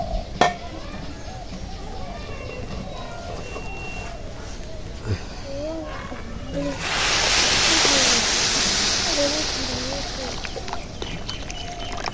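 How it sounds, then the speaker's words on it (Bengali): Pulao rice fries with meat in a kadai over a low flame in a village kitchen, a soft sizzle swelling for a few seconds amid stirring, under a woman's speech. "চালটাও আমি মাংসের সাথে ভেজে নেবো"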